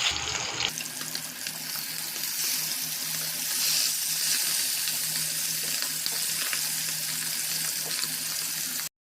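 Fish frying in a pan gives a loud, continuous hiss and sizzle that starts abruptly after a short quiet moment and holds steady before cutting off, with no voices.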